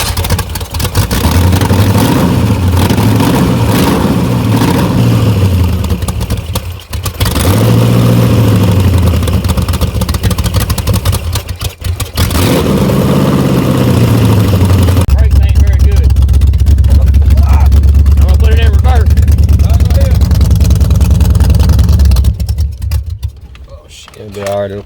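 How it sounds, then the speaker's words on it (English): The V8-swapped Chevrolet Blazer's engine cranks and fires, then runs and revs in loud, rising and falling surges that give way to a deeper, steady roar, with voices talking over it. "It'll be alright, it'll crank back up. Give it a little gas."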